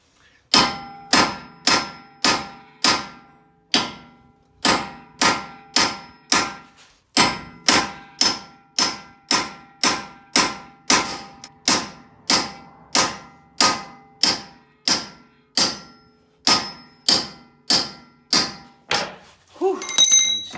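A heavy hammer drives a steel punch to free a stuck CV axle on a 2007 Subaru Impreza WRX wagon, landing about thirty loud, ringing metallic blows in a steady rhythm with no talking.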